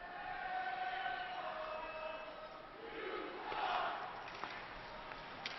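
Hockey arena crowd at a Fort Wayne Komets game in Toledo, a steady roaring wash of massed voices that swells toward the end, loud and continuous with no clear talk on top.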